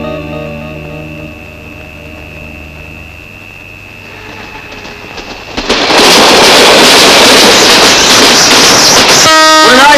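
A train passes in a scene from the Tamil comedy film Arthamulla Aasaigal. A quiet hum gives way midway to a loud, sustained rushing roar close by, which cuts off sharply near the end. No one speaks.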